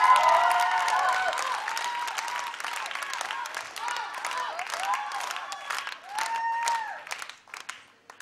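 An audience at a televised dance gala applauds and cheers a dancing couple, sustained clapping with voices over it, swelling and fading before trailing off near the end.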